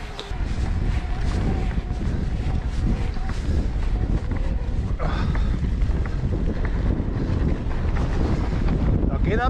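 Wind blowing over a mountain ridge, buffeting the microphone in a steady loud roar with gusty swells throughout.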